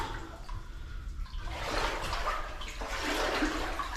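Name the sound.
wading knee-deep through cold water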